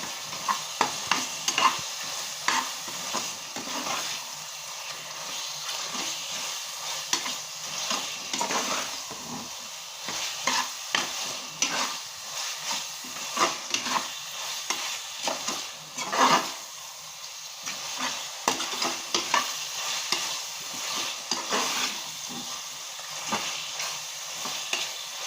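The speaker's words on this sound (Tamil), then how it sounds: "நம்ம க்ளீன் பண்ணி வச்சுருக்க ப்ரான் ஆட் பண்ணிக்கலாம்." Cleaned prawns sizzle and fry in a pan for prawn biryani while being stirred, with steady frying hiss and repeated scraping stir strokes throughout, close and fairly loud, no talking.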